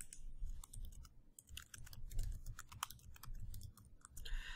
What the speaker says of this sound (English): go ahead and type up your name